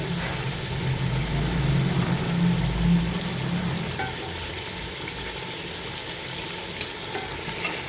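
Spices and yogurt for degi chicken pulao fry and get stirred in a pot, giving a steady close sizzle with scraping stir strokes that swell in the first few seconds and then settle into even frying.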